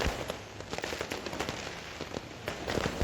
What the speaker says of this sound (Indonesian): Warna-warni kembang api mewarnai langit Timika, kendati tepat memasuki 1 Januari 2023, hujan deras turun mengguyur kota.